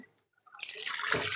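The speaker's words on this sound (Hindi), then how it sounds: "धो लेते हैं जी हाथ" Running water pours from a tap onto hands being washed at a food-prep counter, a steady close splashing that starts abruptly after a near-silent moment and continues to the end.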